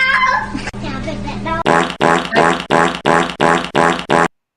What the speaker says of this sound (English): It's a fart.